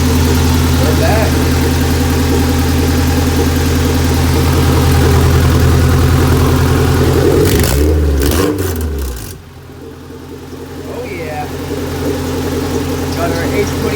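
A Honda H22 stroker engine set up with nitrous idles loudly and roughly up close, with a burst of revving midway before settling back to a steady idle.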